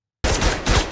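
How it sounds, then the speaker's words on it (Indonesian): Rapid burst of film shootout gunfire starts abruptly after a brief silence, sharp repeated shots in quick succession, loud and close. "Tembak-tembakan pun tidak terelakkan antara John dan para penjahat."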